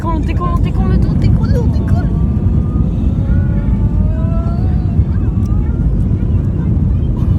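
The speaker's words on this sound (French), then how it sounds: "On décolle." An airplane taking off gives a loud, continuous low engine roar with heavy rumble and wind buffeting throughout. A voice speaks briefly over it.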